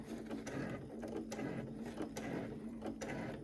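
A sewing machine runs a second pass of stitching through thick fabric for a cosmetic bag, a quiet, rapid mechanical whir with regular clicking pulses, close by and alone.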